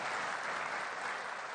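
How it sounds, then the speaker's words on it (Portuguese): Steady, dense applause from an audience of Brazilians at a political gathering, continuous and fairly loud throughout with no voices standing out. "As palmas vieram do coração, da alegria de todos os brasileiros que estão aqui"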